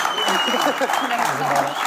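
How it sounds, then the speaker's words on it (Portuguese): Studio audience on a Portuguese late-night comedy show applauds steadily throughout, a dense continuous patter with a voice talking over it. "Uma salva de palmas para eles."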